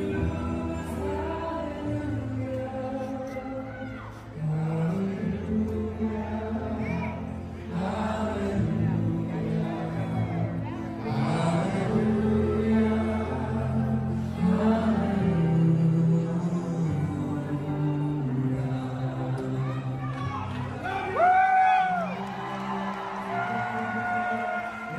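A crowd at a Trump rally sings along with the music, the voices blending into a loud, steady wash that lasts the whole stretch with no break.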